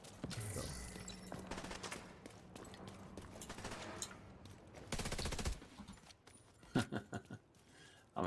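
Rapid bursts of video game gunfire shooting out lights, with bursts of crackling shots that stop and start, a dense stretch near the middle and sharp separate cracks toward the end, fairly quiet overall.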